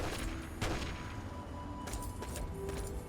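Bursts of gunfire in Fallout 3, a few sharp shots around the one- and two-second marks amid a constant rumbling game ambience, at a moderate distance.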